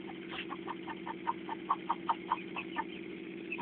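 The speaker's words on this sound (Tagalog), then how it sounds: "Yung mga manok." Chickens cluck in a quick, repeated series near a home yard, the short calls standing out over a steady low hum.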